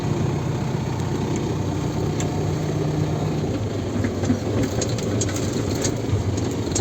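A vehicle engine drones on steadily while driving along a ring road, a low, continuous rumble mixed with broadband road and wind noise, even in level throughout, with no talking.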